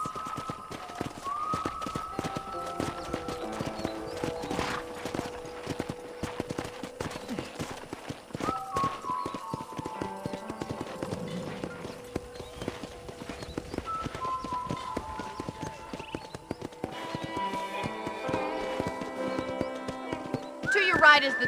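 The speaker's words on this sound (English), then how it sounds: "I picked out a fine horse for you." Horse hooves clip-clop steadily and close by during a ranch ride in the Red Dead Redemption video game, a continuous trotting rhythm with soft music and occasional voices underneath.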